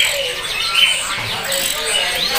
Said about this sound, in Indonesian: Sebelah kiri ready ada samyong dan ini untuk penampakan dari burung samyong NTB ya